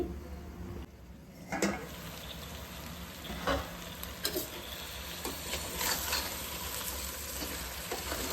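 Goat head pieces fry in oil inside a covered pressure cooker over medium flame, giving a steady close sizzle with a few clinks and knocks.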